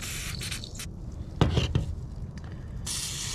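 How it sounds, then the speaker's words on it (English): A WD-40 spray can gives short hissing bursts during chainsaw repair work on a Husqvarna 55 Rancher: a few quick sprays up front, a louder clatter in the middle, and a longer spray at the end. "I could just WD-40 everything."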